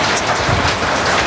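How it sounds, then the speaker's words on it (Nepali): Rain falls steadily on a village, a dense, even hiss of drops close by that runs without a break, with no voices. "पानी पर्यो अब"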